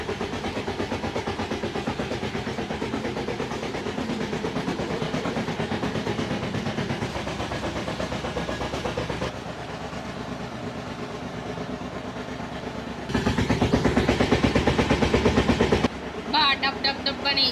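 Train engine running loudly on rails, a heavy rhythmic clattering and rumble that drops back briefly then surges louder near the end, with voices heard at times.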